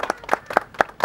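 On a film shooting set, a handful of people clap in slow unison, five crisp evenly spaced claps close by with short gaps between them.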